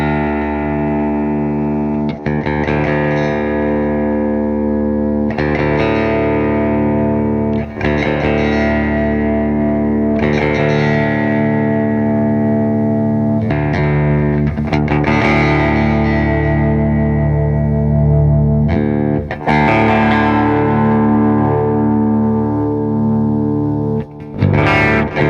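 Distorted electric guitar run through the Neural DSP Archetype John Petrucci plugin on the FET 301 setting plays loud, sustained chords and riffs with effects, continuous and alone for about 25 seconds.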